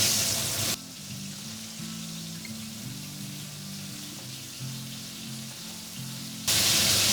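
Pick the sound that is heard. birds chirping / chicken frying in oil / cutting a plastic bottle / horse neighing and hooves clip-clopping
chicken frying in oil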